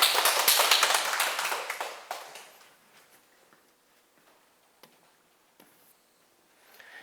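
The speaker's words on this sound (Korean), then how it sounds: "큰 박수 부탁드립니다." Applause from a small audience at a Buddhist teaching session, claps loud and dense at first, then thinning over a few seconds into scattered single claps and near silence.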